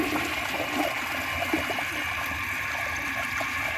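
Steady rushing, gurgling water as a 1988 Kilgore Apex toilet flushes a dish towel, continuous and close with no pause throughout.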